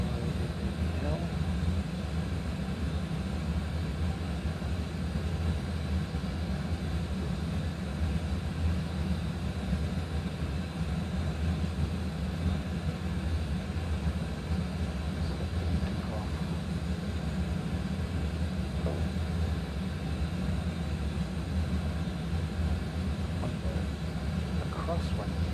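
Steady airliner engine drone inside a flight simulator game, an A320 arriving at Melbourne, a constant broadband hum that holds even and loud throughout without a break.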